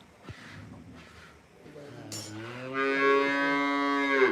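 A buffalo lows during milking, a long, loud, sustained call that rises out of quieter stall noise, with a few fainter grunts and a brief clatter before it.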